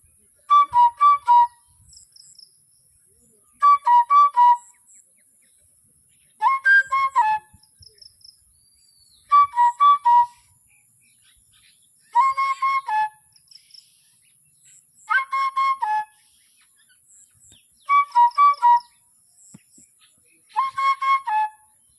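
A bird calls while flying, repeating about eight bright whistling bursts at a steady pace, each a quick cluster of chirped notes separated by short silent gaps, loud and near with nothing else heard.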